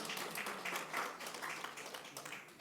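A church congregation applauds during a Sunday service, dense steady clapping from many hands filling the room, tapering a little toward the end.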